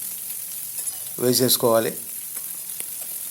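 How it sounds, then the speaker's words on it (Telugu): Okra, green chillies and curry leaves fry in a little oil with tempering seeds, giving a steady close sizzle that runs throughout, while a voice briefly speaks over it. "వీటిని మీడియం ఫ్లేమ్ మీద ఫ్రై చేసుకోవాలి"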